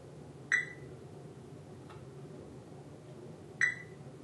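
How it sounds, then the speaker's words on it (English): A Fluke 87V multimeter gives two short, quiet electronic beeps about three seconds apart while testing a diode, with faint ticking between them over a low room hum. "When the forward voltage is within the range that this meter thinks a diode should be, it'll actually beep."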